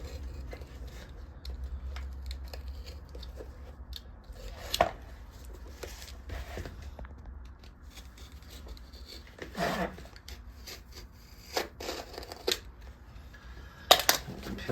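Blade cutting leather from old work boots, a scattering of short crisp snips and scrapes with quiet handling noises between them and a few sharper clicks.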